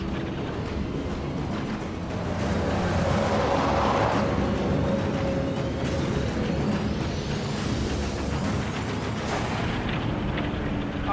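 A 100-ton road train grinds slowly along a narrow outback dirt track, its heavy diesel engine rumbling loud and steady, with air-brake hiss and creaking mixed into the drone.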